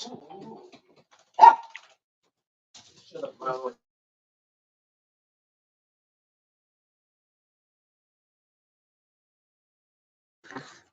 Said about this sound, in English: I think the dog heard me say something about them, and now he's like complaining at me.